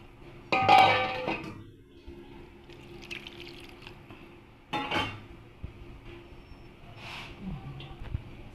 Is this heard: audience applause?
no